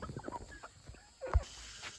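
Backyard laying hens clucking in short, uneven bursts at moderate distance, with a brief louder thump partway through over faint background hiss.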